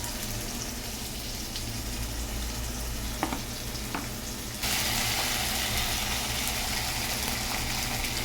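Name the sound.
frying ginger and garlic paste with tomato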